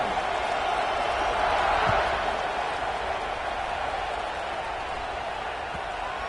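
A dense, steady stadium roar from a college football video game, Florida State against Oklahoma, builds slightly then holds as a loud, continuous wash of crowd noise before kickoff.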